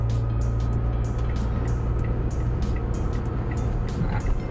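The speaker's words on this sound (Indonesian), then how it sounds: "Kita bisa injek gas lagi sampai RPM 4000, oper gigi 5." A Wuling Confero S ACT climbing the steep hill roads of Ketep and Kopeng, its engine pulled toward 4000 rpm before fifth gear; the cabin holds a steady, continuous low drone of engine and road noise.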